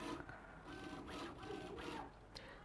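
A Bambu Lab A1 3D printer runs its calibration routine at top speed, producing a faint, continuous mechanical whir with rhythmic rising and falling motor tones and small clicks, heard alone.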